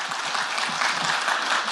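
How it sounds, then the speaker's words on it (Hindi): Dense, steady audience applause welcoming Uttar Pradesh BJP president Swatantra Dev Singh onto the stage at a UP Manthan session, a continuous wash of many hands clapping at even loudness with no talk. "तालियों से स्वागत करिए।"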